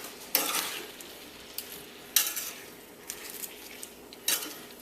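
A spoon stirs sugar and grated ginger in a pot, giving a few distinct scrapes and clinks against the metal at irregular intervals over a soft background hiss, with no talking.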